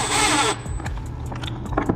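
A power drill whines loudly for about half a second, driving a silver screw into a subwoofer enclosure, then drops away into faint clicks and handling noise.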